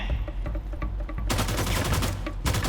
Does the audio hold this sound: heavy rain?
no